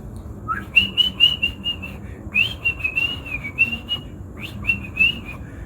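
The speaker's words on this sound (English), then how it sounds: "We're going to use the act of whistling." A person whistles during a deep core workout, making several sustained, wavering tones in three phrases with brief gaps, close and clear over light background noise.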